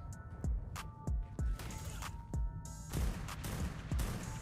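Sniper rifle fire at a wyvern in the video game Ark: Survival Evolved, several sharp booming shots spaced roughly half a second to a second apart, loud and close with a low-frequency punch.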